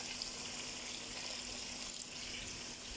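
A small splash of water goes into a hot cooking pan of masala, onion, tomato, garlic and ginger for chicken, a steady hissing wash of sizzle that runs evenly and cuts off abruptly.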